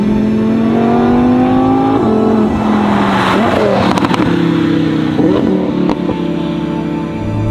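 A Lamborghini Huracan STO fitted with a Novitec exhaust revs loudly and close, its engine pitch rising and falling through several surges with sharp crackles and pops between, under some faint talk.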